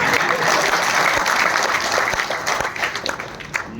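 A large crowd at a mimicry comedy show in a mining setting breaks into continuous applause, dense and loud throughout before thinning slightly near the end.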